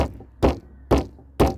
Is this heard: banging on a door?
yes